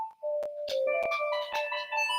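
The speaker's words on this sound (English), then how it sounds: "Oh yeah, it's a phone." A phone rings inside The Legend of Zelda: Ocarina of Time randomizer, a bright electronic melody of stacked tones with sharp accents, playing clearly on its own without talk.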